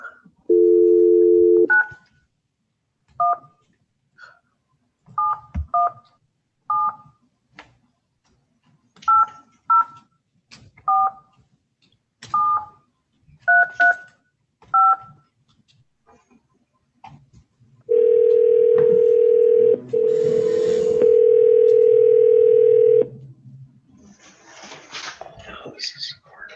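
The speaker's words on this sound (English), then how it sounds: "Let me see if I can get him by phone." Telephone keypad tones beep in short, evenly spaced pairs as a number is dialed over a call line for a remote judge's meeting, followed by a long steady dial tone near the end, loud and close with no talk over it.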